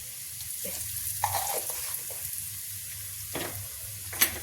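Cumin seeds and asafoetida sizzle in hot oil for pickle, a soft, steady frying hiss broken by a few brief stirring scrapes and clinks, close and fairly quiet.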